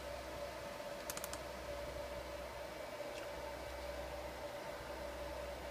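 A computer mouse double-clicks over steady background hiss, two quick sharp clicks close together, with a fainter single click a couple of seconds later.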